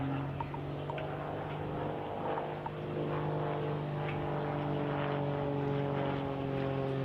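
A jet aircraft at an RAF Cosford air display finishes an aerobatic loop after a derry turn and quarter clover, its steady engine roar heard from a distance throughout, with no talk.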